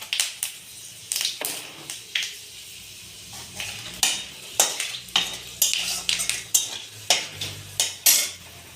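Panch phoron spices and bay leaves fry in oil while a spatula stirs them, giving a close, rhythmic run of about a dozen scraping strokes against the pan over a soft sizzle.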